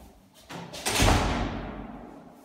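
A door swings open with a soft thud and whoosh, near and fairly loud, fading out over a couple of seconds in a quiet apartment building hallway with no one talking.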